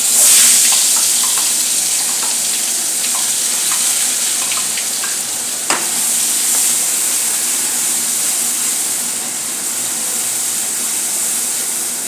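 Ground spice paste sizzles steadily in hot oil with asafoetida and cumin, a loud, even hiss throughout, with one brief clink partway through and no talking.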